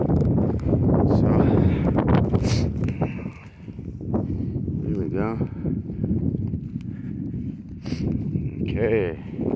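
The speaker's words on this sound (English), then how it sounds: "God, it's windy" Gusty wind buffets the microphone in low rumbling bursts while a person talks over it outdoors on a desert hillside.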